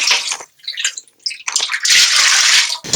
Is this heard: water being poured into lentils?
yes